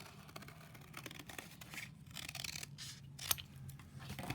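Scissors snip through cardboard to cut out a Mardi Gras mask, with a string of close, quiet, irregular cuts and rustling handling of the board; no one speaks.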